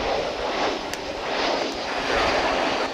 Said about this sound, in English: Here comes American Flight 2404 from Denver, Colorado. An Airbus A321, if I read that right.